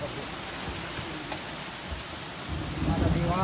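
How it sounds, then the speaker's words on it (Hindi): Heavy rain falls in Taif, Saudi Arabia, a dense steady hiss of water on surfaces, with a rumbling swell building near the end. "सऊदी अरब के ताइफ में बारिश के बाद बाढ़ जैसे हालात,"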